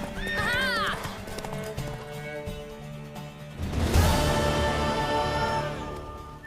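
A horse in The Witcher 3 clip-clops along and gives a clear, rising whinny near the start, over game music, with a loud crash-like swell in the middle.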